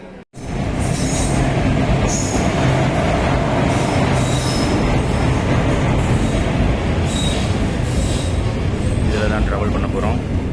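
A passenger train rumbles steadily along the rails, heard from inside, loud and close, with a constant roar, periodic bursts of high screeching from the wheels, and faint voices underneath.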